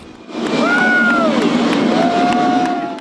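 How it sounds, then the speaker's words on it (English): Crowd cheering and shouting at the first flight of a Boeing KC-46A Pegasus tanker, a sustained loud wash of many voices with a few whistles or rising shouts, steady for about three seconds. "the crowd on hand could not stifle their joy"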